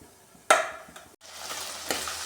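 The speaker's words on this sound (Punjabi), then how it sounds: "ਤੜਕੇ ਨੂੰ ਅਸੀਂ ਉਦੋਂ ਤੱਕ ਭੁੰਨਣਾ ਜਦੋਂ ਤੱਕ ਇਹਦਾ ਕਲਰ ਚੇਂਜ ਨਹੀਂ ਹੋ ਜਾਂਦਾ" Cumin, ginger, garlic and onion hit hot oil in a sudden loud sizzle, which fades briefly and then resumes as a softer crackling fry while the mixture is stirred.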